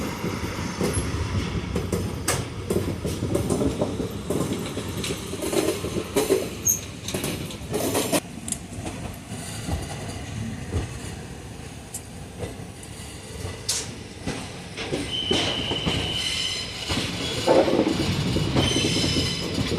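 The Ranikhet Express, train 15014 from Kathgodam, rolls into Delhi Junction with a continuous heavy rumble, rhythmic wheel clatter and sharp knocks, and faint squealing tones near the end.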